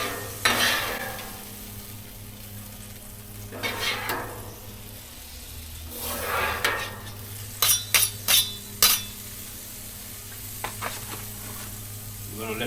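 Shrimp sizzle steadily on a hot griddle, a continuous close fry broken by scraping stirs and several sharp metallic clinks of a spatula, no talk.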